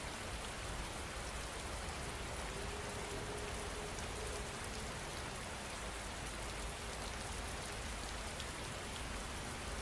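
Steady rain pours in a dense, even hiss of countless drops striking surfaces, unbroken and fairly soft throughout, with no voices.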